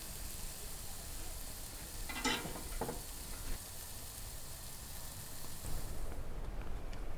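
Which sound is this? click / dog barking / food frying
food frying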